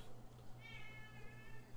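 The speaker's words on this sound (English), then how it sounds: "My cat." A house cat gives a faint, drawn-out meow or chirp, with steady low game audio humming underneath.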